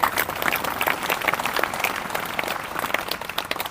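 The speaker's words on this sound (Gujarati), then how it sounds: "જોરદાર તાળી પાડીને શીશ નમાવીને" Audience at a Mahashivratri gathering at Devdha Dham in Gujarat claps loudly for Sant Ganga Ram Maharaj, a dense, sustained wash of many hands clapping without pause, fairly close and even throughout.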